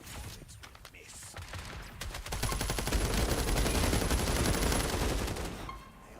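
Sustained automatic gunfire in the post-apocalyptic video game Fallout 76, a dense rapid stream of shots building after a quieter start and fading out near the end, mixed with game effects.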